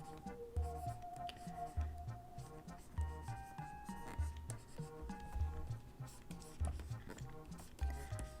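Pencil sketching a human figure on paper: continuous scratchy strokes in short repeated bursts, close and clear, with a voice talking over them.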